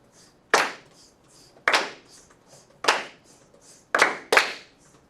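Students clap a rhythm together, five sharp group claps in an uneven pattern with the last two close together, faint soft sizzling between them.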